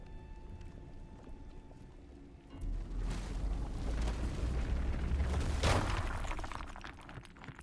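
A rock explosion in Runescape: Dragonwilds breaks into a rumbling boom that swells after a quiet lead-in, with a sharp crack near the peak before the roar slowly tapers off.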